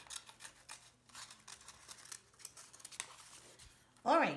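Scissors snipping through paper to cut out a paper doll, a few faint crisp cuts under quiet talk, ending with a louder close rustle of paper.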